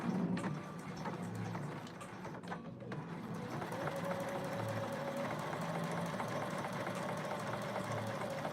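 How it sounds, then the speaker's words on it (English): A sewing machine stitching a narrow hem, a quiet, steady mechanical hum with faint rhythmic needle clatter, heard close up and alone. "I'm gonna go ahead and stitch it close. I'm doing a narrow hem here."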